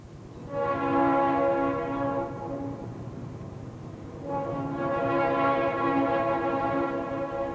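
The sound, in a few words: freight train passing through town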